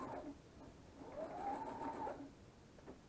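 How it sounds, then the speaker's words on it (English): A home sewing machine stitches a fabric face mask with the presser foot down, a faint, quiet whirring run that rises and falls over a couple of seconds in a calm room. "drop the presser foot down, and I'm going to sew to here"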